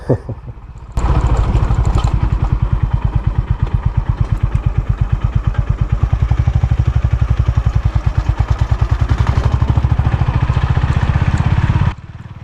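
A Honda H'ness CB350 single-cylinder motorcycle runs hard off-road, its engine thumping in a loud, rapid, even pulse for about eleven seconds, with rattling clatter layered over the exhaust beat.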